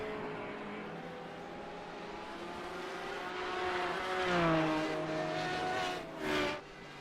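Race cars in a sim racing game at Zolder (Virtual Belcar eSeries) drone steadily with rising and falling engine notes, swelling as cars close up and a quick loud pass near the end.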